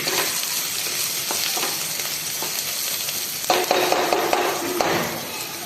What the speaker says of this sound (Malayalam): നല്ലപോലെ ഇളക്കുക. ചൂടായി വരുന്നുണ്ട്.